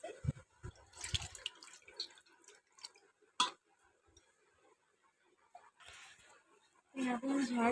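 Puja utensils being washed under water: faint, intermittent splashes, drips and light clinks spread through a quiet room, with a voice speaking near the end.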